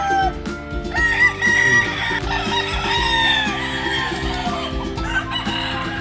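Roosters crow before dawn at a Batangas chicken farm, several long cock-a-doodle-doo calls overlapping loudly near and far over a steady busy background.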